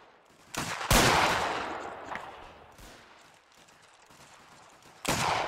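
Musket volleys ring out in a video game battle, several loud overlapping cracks with a rolling rumble after the first, then scattered distant shots before another sharp burst at the end.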